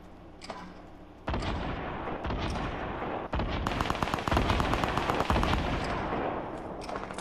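Rapid bursts of automatic gunfire and single shots from a Fortnite battle, sharp repeated cracks after a brief quieter lead-in, loud and continuous with short gaps between volleys.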